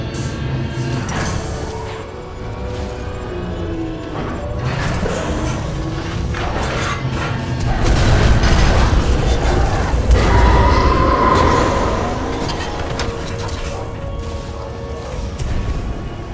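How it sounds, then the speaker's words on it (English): Rumbling blasts and mechanical creaks from a series of explosions in the video game Titanfall 2, with dense layered booms swelling louder around the middle of the stretch against continuous game machinery noise. "a series of explosions just weakened the manipulator arm"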